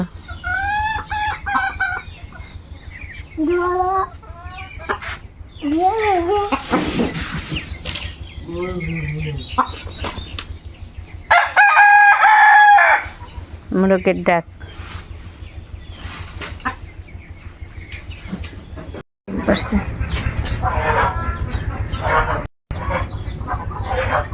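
A desi rooster crows among clucking desi chickens at a home poultry yard, with several crows and cackles rising over a steady background hum, close and loud, and a voice talking in between.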